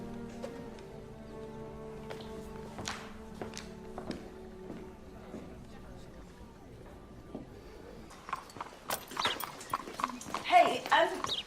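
Horse hooves clip-clop on a hard surface in a steady walking rhythm, mostly faint and under ongoing conversation, with people talking throughout and a burst of louder activity near the end.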